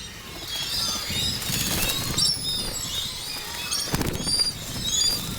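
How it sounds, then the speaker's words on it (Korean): Seabirds taking off one after another from the open sea at dawn near Baengnyeong Island, their wings flapping in soft repeated bursts over a constant wash of water and faint bird calls. "한 마리씩 차례대로 이륙하는 심새들의 모습은 생존 본능이 만들어낸 장관이다"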